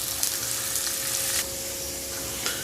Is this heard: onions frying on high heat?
yes